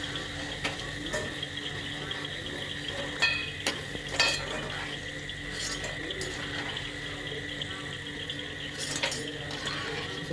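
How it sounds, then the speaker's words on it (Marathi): Khari shankarpali, a salty fried snack, frying in hot oil on medium gas until golden: a steady bubbling sizzle with occasional sharp clinks of a utensil stirring against the pan. "आता मीडियम गॅसवर आपण याला तळून घेऊ असं सोनेरी कलर येईपर्यंत तळून घ्यायचे"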